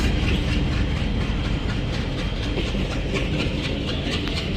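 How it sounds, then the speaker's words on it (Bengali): Chilahati Express train from Rajshahi arriving, a steady loud rumble of wheels and carriages with faint rhythmic clatter running the whole time, no voices. "সম্ভবত রাজশাহী থেকে আসছে ট্রেনটা"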